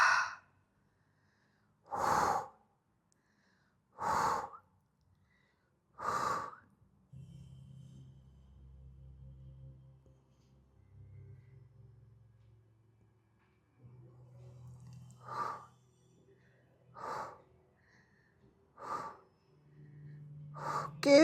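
Deliberate breaths out during a Pilates workout with a soft ball, heard as several separate breathy gusts in a steady rhythm with quieter low murmuring between them, fairly close and with no one talking.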